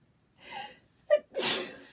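A quick gasping intake of breath builds up, then one loud, hissing sneeze follows, close and alone.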